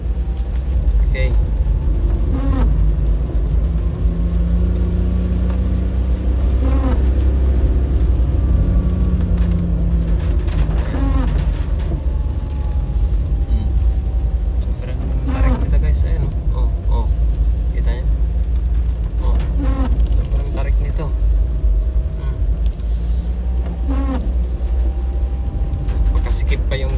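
A DIY mini camper's engine labours up a steep, sharply winding mountain road, a loud steady low rumble that continues throughout, with voices speaking over it.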